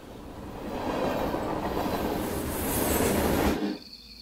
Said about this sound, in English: we have got that shot of the train going through the tunnel